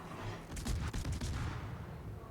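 Naval guns firing in World of Warships, a quick cluster of distant booming shots followed by a fading rumble, fairly faint.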